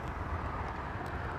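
A camera drone starting up over Chicago, a steady, even whirring hum of moderate loudness that holds without pause for the brief moment.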